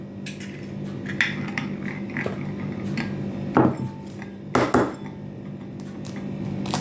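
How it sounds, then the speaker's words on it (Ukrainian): Two chicken eggs cracked into a bowl of flatbread batter with dissolved salt and sugar: two sharp, close cracks about a second apart over a low steady kitchen hum. "І тепер додаємо два курячих яйця."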